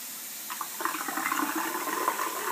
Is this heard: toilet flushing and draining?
yes